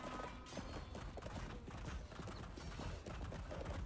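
Horse hooves clip-clop rapidly in a video game, a faint, dense, continuous patter of galloping steps without a clear pause.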